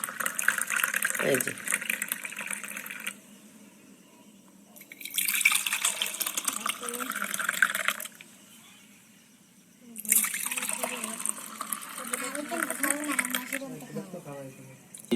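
Thin date palm sap, runny like water, being poured in alternating spells of splashing liquid and quieter gaps, with someone speaking briefly over it.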